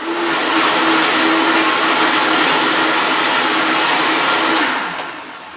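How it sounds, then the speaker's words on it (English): A Vitamix blender whirs steadily at high speed for several seconds, loud and close, then winds down near the end. "And then you just turn the blender on."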